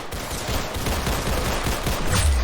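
Pistol fire in a video game, a dense, steady stream of overlapping shots and impacts at close range, loud throughout and without talk.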